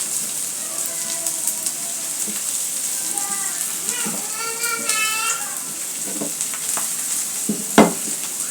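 Two onions and four garlic cloves fry in a pan with a constant hiss, as stirring scrapes and clinks come and go. Faint tonal squeaks drift in the middle, and a sharp knock lands near the end.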